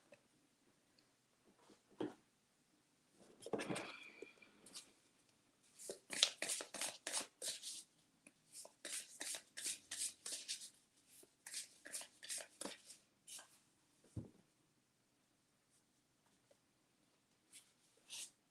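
Oblong tarot cards are shuffled by hand in a quiet room. Soft papery riffles and slides come in repeated bursts of quick flicks with brief pauses between them, close and fairly faint.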